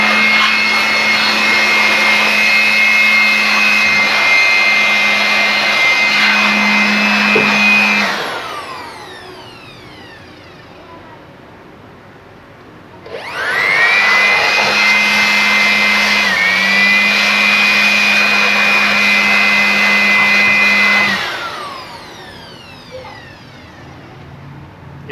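An electric blower whines loudly while blasting dust out of a computer, running about eight seconds, cutting off, then restarting with a pitch sweep for another long burst before stopping.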